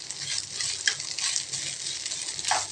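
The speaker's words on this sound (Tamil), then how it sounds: "இப்போ இது நல்லா வேகமாகவே கிளறிக்கலாங்க. நல்லா உடச்சி விட்டுட்டு நல்லா கிளறிக்கலாங்க." Scrambled egg with ladies finger (okra) being stirred in a hot pan, a continuous close sizzle overlaid with quick scraping and tapping strokes of a spatula.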